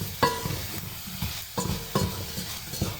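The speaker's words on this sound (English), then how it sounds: "now I need to mix everything in" A spoon stirs and scrapes through sizzling ingredients in a pot for a lentil soup, with a few distinct knocks against the metal over a low frying hiss, close and unaccompanied by talk.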